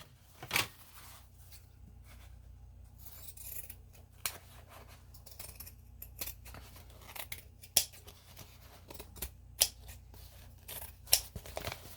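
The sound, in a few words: cutting something up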